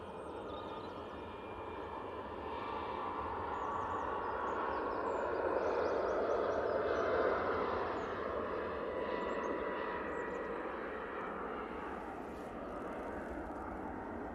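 A Ryanair airliner on its takeoff roll at Manchester Airport gives a distant engine roar that swells to a broad peak midway and then slowly fades, with faint bird calls in the background.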